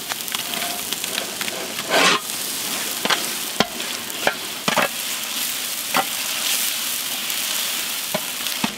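Ginger garlic paste sizzles in hot oil for mutton biryani, stirred with sharp scraping and knocking strokes at uneven intervals over a constant loud frying hiss.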